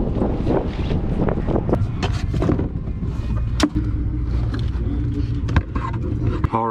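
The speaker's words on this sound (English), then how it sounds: "we drive west, that wind's a-blowing." Steady wind buffets and roars across the microphone throughout, a constant rushing noise with occasional gusts.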